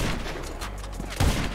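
Gunfire in GTA 5 during a tank hijacking session, a dense burst of game shots with a heavier blast near the end, loud and continuous over the whole moment.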